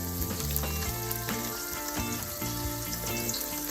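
Onion sautés in a little coconut oil with popped mustard seeds for a brinjal fry, a dense close sizzle mixed with spatula knocks and scraping, no voices.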